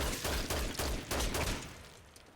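Rapid bursts of gunfire from the video game Dead Rising Deluxe Remaster, a loud close volley of overlapping shots in quick succession that thins out and fades toward the end, with no talking.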